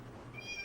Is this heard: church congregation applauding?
no